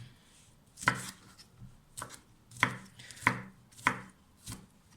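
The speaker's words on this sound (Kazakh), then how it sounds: "Мен осылай бұрышты 4-ке бөлемін де, осындай ірі соломкалар жасап тураймын." Knife chopping bell peppers on a board, five or six sharp, close cuts in an uneven rhythm with short pauses between them.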